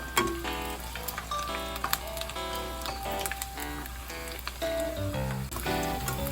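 Eggs deep-fry in hot oil until crispy for Thai son-in-law eggs, a continuous bubbling sizzle with small crackles, heard under loud background music.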